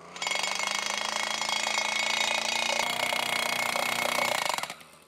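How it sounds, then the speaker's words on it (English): A gas-powered T-post driver hammers fence posts into the ground for a sheep and goat fence, a loud rapid pounding with a whining small-engine drone that runs steadily for several seconds, then cuts off. "off with the gas-powered T-post driver"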